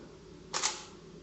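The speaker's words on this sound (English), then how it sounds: "I fired the camera" A Canon DSLR fires its shutter once with no memory card inserted, a single crisp mechanical snap, close and clean against near silence.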